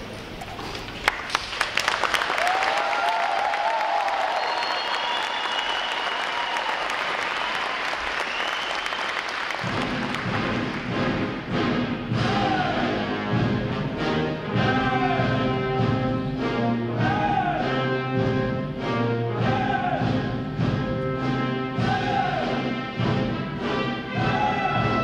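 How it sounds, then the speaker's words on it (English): Crowd applause rises at a U.S. Navy recruit training graduation ceremony, a broad, loud clapping roar for about ten seconds before a band's brassy music takes over and continues beneath fading claps. "letting your applause show these sailors just how proud of them you are"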